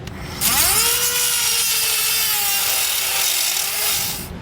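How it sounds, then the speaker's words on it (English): A Dremel cutting wheel bites into a trailer hitch spacer, spinning up into a loud steady high-pitched whine that holds for about four seconds, with the pitch wavering slightly as the cut runs along a straight line. "I've just kind of took my Dremel wheel and kind of cut a straight line there"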